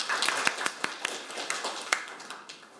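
Scattered hand clapping from an audience at a seminar, a few sharp individual claps standing out over a steady patter of applause.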